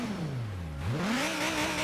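A V10 sports car in Forza Horizon 3 revs, its engine note falling then sweeping sharply upward into a loud, climbing rev that carries steadily to the end.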